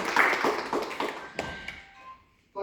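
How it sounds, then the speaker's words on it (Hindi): Audience applause at a book release event, a burst of many hands clapping that swells briefly and then fades out toward silence, with a fresh sound starting right at the end. "तो सबसे पहले तो मैं कहूँगा कि एक ताली"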